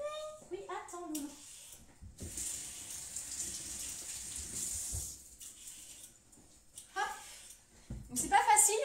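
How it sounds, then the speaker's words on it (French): A kitchen tap runs over a carrot to rinse it, a soft steady splashing gush in the middle stretch, with voices, including a child's, chattering before and after it. "On va passer un petit coup d'eau sur la carotte parce qu'on les a pas lavées avant de les éplucher"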